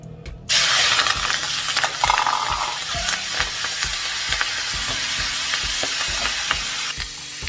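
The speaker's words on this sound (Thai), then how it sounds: "แล้วเราก็พร้อมที่จะนำไปผัดแล้วค่ะ ใส่น้ำมันลงไปนะคะ แล้วก็รอจนน้ำมันร้อนจ้ด" Kale and fresh shrimp hit hot oil in a wok with a sudden burst of loud sizzling, followed by continuous crackling and rhythmic scraping of a spatula as the stir-fry is tossed.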